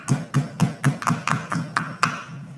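Steady rhythmic pounding of chilies in a stone mortar, about ten close, dull thuds with bright clacks, evenly spaced and loud, no voices.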